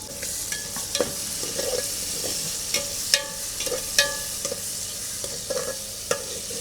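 Onions, green chillies and curry leaves fry in oil in a pan for a fish curry, a continuous close sizzle punctuated by regular metallic spatula scrapes and clinks, with no speech.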